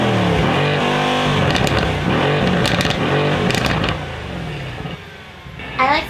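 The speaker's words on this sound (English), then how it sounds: "This just has like all the exhausts perfectly. This is gonna be like very grumbly." Car exhaust with a grumbly tone: a loud, close engine rumble that revs up and down in several surges, then settles to a lower idle near the end.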